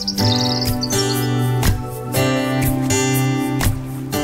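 Birds at a wetland reservoir chirp and call steadily up close, with bright, layered tweets and a run of rapid trills near the start, with no speech.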